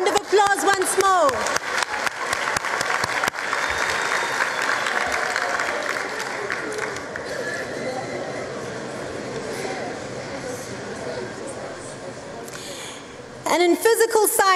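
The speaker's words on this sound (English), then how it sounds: "A round of applause once more." A large audience at a matric results announcement ceremony breaks into a long round of dense clapping, loud at first and slowly thinning out, with a voice speaking briefly at the start and again at the very end.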